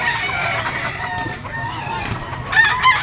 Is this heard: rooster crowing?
yes